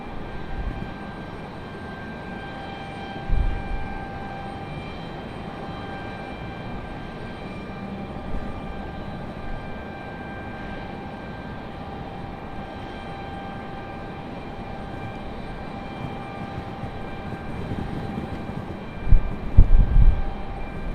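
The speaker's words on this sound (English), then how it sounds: "Little tri-jet here." A tri-jet airliner passes at Raleigh Durham International Airport, a sustained engine roar with steady whining tones under gusty wind, swelling near the end.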